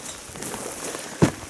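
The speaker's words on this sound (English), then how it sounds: "Downpouring rain." Heavy rain pours down in an outdoor hunting setting in Montana, a steady, dense hiss of drops on surfaces with one brief louder knock near the end.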